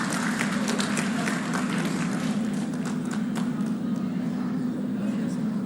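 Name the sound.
audience applause at a ceremony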